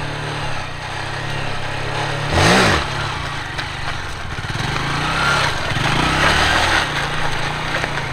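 A dirt bike engine revving during wheelie practice: a steady mid-pitched drone with one sharp rising and falling rev partway through, then further gentle surges in throttle, heard fairly close and without talk.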